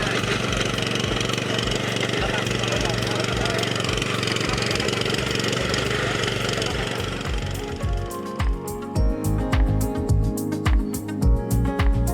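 Walk-behind FTL720D tiller's engine running while ploughing hard soil in a Cilacap corn field, a loud continuous mechanical drone with knocking, clattering pulses that grow choppier toward the end, with a voice speaking over it.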